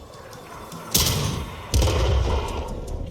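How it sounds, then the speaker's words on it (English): Artillery fires in the tank game World of Tanks. Two heavy booming shots land about a second apart, each with a sharp onset and a lingering low rumble. They are close, loud and have no talk over them. "Shooting artillery."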